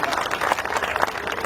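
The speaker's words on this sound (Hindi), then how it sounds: "तालियां कम हैं" Applause from the audience at a Hindi comedy poetry gathering, a steady dense patter of many hands clapping throughout, moderately loud and close with no speech over it.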